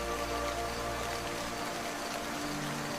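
Steady rain falls outdoors as a continuous, even wash of hiss with no breaks, loud and close throughout, with no voices.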